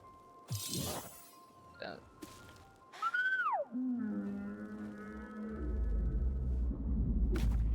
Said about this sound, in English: Sounds like a whale.